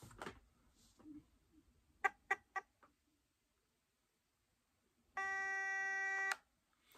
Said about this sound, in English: hold it until you hear a really long beep like this.